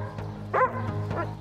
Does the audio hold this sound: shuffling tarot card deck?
no